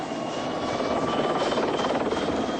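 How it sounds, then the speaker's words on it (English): A helicopter cabin on a flight over Mallorca carries a steady, loud, continuous engine and rotor drone with a constant whine, with no break or change throughout. "Right, we're in the helicopter."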